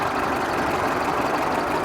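A big old Leyland truck engine, engine number 12320, idles steadily at a machinery show, a continuous close, even rumble with no talk over it.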